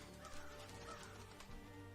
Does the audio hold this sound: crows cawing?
yes